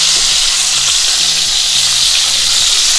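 Bacon jam cheeseburger patties fry on a hot griddle, making a loud, steady sizzle that runs unbroken from start to finish over a low musical backing, with no voices.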